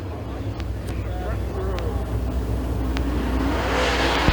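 Dirt track race cars roar off the green flag start of a heat race at Thunder Mountain Speedway, a rising wash of engines heard at a distance under wind noise and announcer talk.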